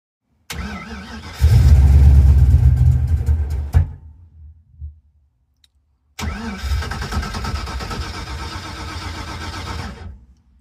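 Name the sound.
car engine with Edelbrock 1405 carburetor starting and idling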